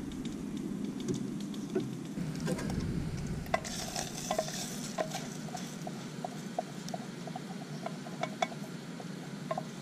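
Spam browns and sizzles in a metal canteen cup, steady frying hiss with soft scraping as a small wooden spoon stirs it, then quieter crackle with faint pops; no voices.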